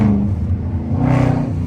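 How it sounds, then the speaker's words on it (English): Car in first gear revved by tapping the gas at low speed with paddle shifters, a loud close exhaust drone that rises briefly then settles, heard alone. "That's how you make the exhaust scream."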